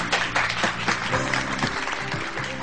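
A studio audience on a Pakistani morning show claps in a brief, lively burst of dense applause, with speech running alongside.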